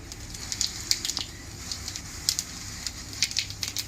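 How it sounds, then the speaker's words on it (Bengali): Cumin seeds tempering in hot oil in a rustic chicken recipe, sharp scattered sizzling crackles popping over a soft frying hiss, close and faint. "তেলটা গরম হয়ে গেছে, এবার সম্বরটা দেবো। আগে"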